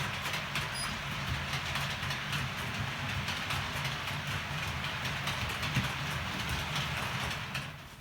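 Two Hornby GBRf Class 50 model locomotives passing each other on a model railway layout, a steady close rolling rumble with light rail clatter, fading slightly at the end, with no voices.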